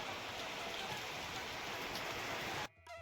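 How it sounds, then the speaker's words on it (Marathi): Soft, steady rain hisses for a few seconds, then abruptly cuts off near the end. "झाला पाऊस सुरू"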